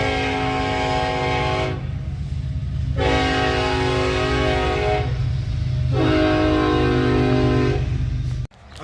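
A train rolls past on the tracks near an old town, with long, loud horn blasts repeating over the steady rumble and clatter of the cars until the sound cuts off abruptly near the end.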